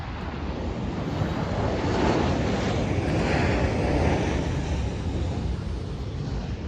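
Southwest Airlines Boeing 737 coming in to land, a broad continuous jet roar heard from outdoors and mixed with wind buffeting on the microphone, swelling slightly in the middle.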